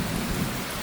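Heavy rain shower pouring down over a backyard DIY pond, a dense, steady wash of noise with low rumbling underneath, loud and continuous with no voices.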